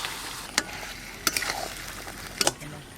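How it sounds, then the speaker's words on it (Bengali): Chicken kosha curry sizzles and fries in a pan while a spoon stirs and scrapes it in a few sharp strokes, close up, over a steady hiss of cooking. "চাপা খুলে একবার নেড়ে দিই।"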